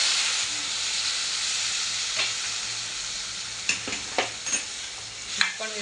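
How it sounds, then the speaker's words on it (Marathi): Black-eyed peas being stirred and sautéed in a pan, a steady hot sizzle with a few scraping stirs of a spoon toward the end, no talking. "हे पण व्यवस्थित परतून घ्यायचे. आता आपण चवळी टाकून घेऊया."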